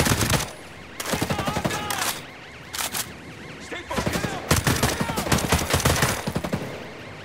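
Video game gunfire crackles in repeated automatic bursts, with loud volleys broken by short pauses, and shouted voices of players come and go over the shooting.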